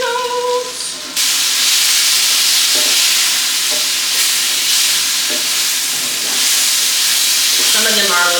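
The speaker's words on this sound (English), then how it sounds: "Stir my potatoes." Potatoes fry in a pan with a loud, steady sizzle that fills the scene, broken by scraping and clinking as they are stirred.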